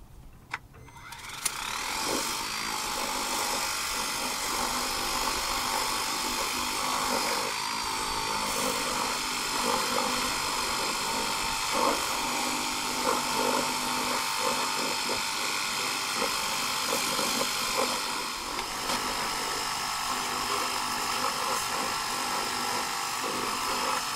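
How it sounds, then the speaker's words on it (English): A pressure washer blasts sand and grit out of an RV's fifth wheel hitch, a loud, continuous hissing roar with a motor drone underneath that starts abruptly and runs unbroken throughout. "So I'm gonna give it a pressure wash"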